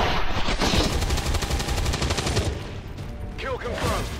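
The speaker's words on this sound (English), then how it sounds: "we'll shoot him with this, because we don't need more people shooting at us" Gunfire in the video game XCOM 2: War of the Chosen, a loud burst of rapid automatic shots crackling in quick succession, followed by more sharp impacts and electronic effects, with a voice speaking at moments.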